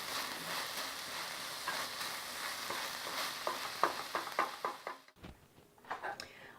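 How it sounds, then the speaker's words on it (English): Ladle scraping and clattering through vegan French onion soup as black pepper and thyme are stirred in, faint sizzling underneath, with a run of rhythmic knocks and scrapes before a sharp clank near the end. "and we give it a stir again"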